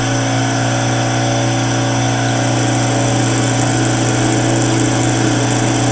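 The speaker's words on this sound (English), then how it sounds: "Awfully rattly on an interrupted cut. You feel it in the lathe more than hear it on this one." A metal lathe takes an interrupted cut across splines, a loud steady machine drone with a constant hum and fine rattle, running close and unbroken with no talking.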